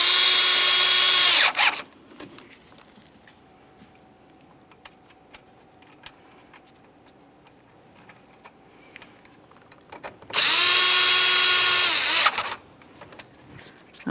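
A power drill drives screws into a radiator cooling fan assembly for a 2017-2024 GMC Acadia, with two loud whirring bursts of about two seconds each separated by quiet handling clicks.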